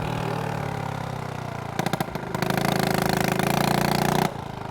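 A 1986 Honda Z50RD minibike's small engine runs close by, a buzzy putter that briefly stutters with sharp pops, then settles into a louder, steady rattling drone before dropping back to a softer idle.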